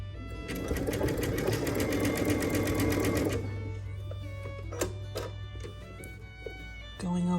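A sewing machine stitches a lettuce hem on stretched fabric, its needle buzzing in a fast, steady rhythm for a few seconds before stopping, followed by light handling clatter and a brief restart.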